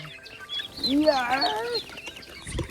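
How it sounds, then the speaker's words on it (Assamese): Farm chickens cluck and squawk loudly up close as they crowd in for feed, a burst of overlapping calls rising and falling over about two seconds, followed by a brief thump. "মুৰ্গীবিলাকে মানে মোক দেখা পোৱাৰ লগে লগে মানে পুৰা খাবৰ কাৰণে পুৰা হুলস্থুল কৰি থাকে"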